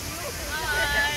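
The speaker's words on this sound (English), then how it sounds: "It's a beautiful waterfall." Seljalandsfoss waterfall in Iceland rushes as a steady broadband roar, with wind and a hubbub of nearby voices layered over it.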